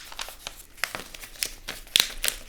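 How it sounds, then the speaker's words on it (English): Paper crinkles and creases in a string of sharp, irregular rustles as a paper airplane is folded along its center line, close and alone. "You're gonna fold that up right on the center line."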